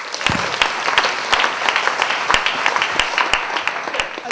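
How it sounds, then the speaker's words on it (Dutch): An audience at the opening of a Fairtrade week gives warm applause, moderately loud clapping with distinct nearby hand claps punctuating a steady background patter. "We vragen nu een warm applaus voor Floortje Dessing"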